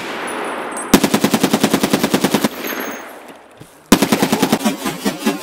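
Rapid automatic gunfire in a first-person shooter video game, two fast, loud bursts of evenly spaced shots separated by a short pause.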